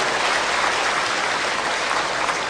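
A crowd applauds for the Kiai Kanjeng ensemble at a Cak Nun gathering, with dense, steady clapping filling the short stretch with no talk.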